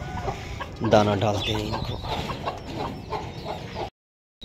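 A small backyard flock of five hens clucking close by as grain is scattered for them, clustered bursts of clucks over someone talking, ending abruptly.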